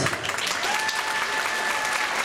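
Wedding guests applaud at a civil ceremony, a steady patter of many hands clapping at moderate distance, with faint voices mixed in underneath.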